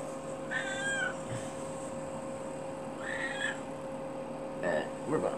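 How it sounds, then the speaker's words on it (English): A mother cat meows repeatedly indoors, three drawn-out cries spaced a few seconds apart over a steady background hum. "Mama cat, she's just going nutty."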